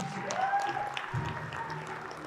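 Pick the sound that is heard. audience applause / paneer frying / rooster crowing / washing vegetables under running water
audience applause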